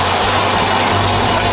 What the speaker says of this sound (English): That's the sound of the bead being broken.